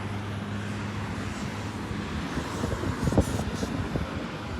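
A big truck passing on a neighborhood street, a low steady rumble with a swelling pass near the end, heard from close by amid traffic and wind noise.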